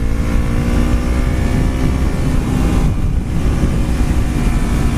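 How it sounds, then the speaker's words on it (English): Motorcycle engine droning steadily at close range on a twisty road, with a brief dip in the note as the rider shifts up a gear, loud and alone. "I'm in the wrong gear, I gotta shift up"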